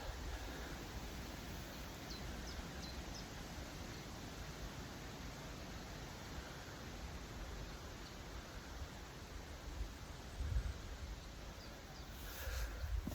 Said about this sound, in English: just stand and listen to the wind in the trees